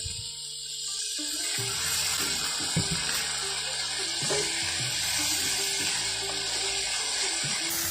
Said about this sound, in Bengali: যাতে মশলাটা পুড়ে না যায় জন্য দিয়ে দিচ্ছি সামান্য একটু পানি